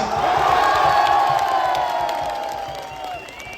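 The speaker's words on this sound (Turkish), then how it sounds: "Alkışlarınızla Ernest Bucci." A large crowd at a Beşiktaş Turkish Cup trophy celebration roars with cheers, whistles and shouts over scattered clapping, loud at first and slowly fading.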